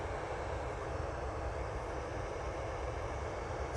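A Boeing 787-9 Dreamliner at Manchester Airport gives off a continuous, dense engine rumble and hiss, loud and unbroken, heard alone without talk.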